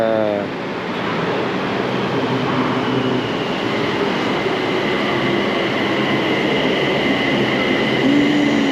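Bangkok MRT Blue Line metro train running, a steady loud rumble of wheels and motors inside the carriage with a brief squeal near the end.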